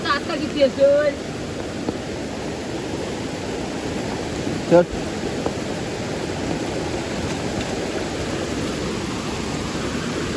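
Flood water rushes in a steady, loud broadband roar where villagers set crab traps in the Konkan countryside, with a brief voice near the start.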